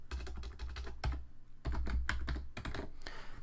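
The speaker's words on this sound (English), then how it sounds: "So I'll type in Johnny on the spot, institution, Miracosta, and my password." Fingers type a username and password on a computer keyboard in quick bursts of clicking keystrokes, separated by short pauses, fairly close and clear, with no talking.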